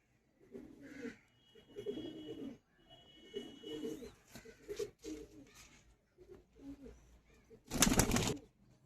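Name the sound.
Machua pigeon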